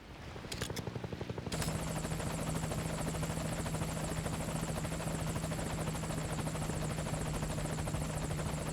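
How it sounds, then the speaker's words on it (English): A helicopter gunship arrives in the video game Metal Gear Solid V Ground Zeroes: loud, steady rotor thrum with a sustained engine whine, starting after a brief quieter lead-in and continuing without break. "I assume that's ours, and that looks like a gunship."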